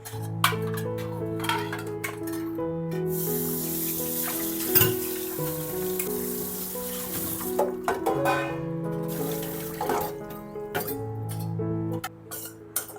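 Dishes being washed in a home kitchen after a family meal, with steady running tap water and clinking pots and plates, continuous and close throughout, with some louder clatters.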